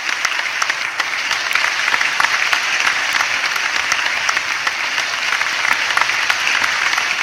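Loud, sustained applause from a crowd at a public event launching the Udyam Kranti Yojana scheme, thanking the chief minister. It holds steady throughout with no talking.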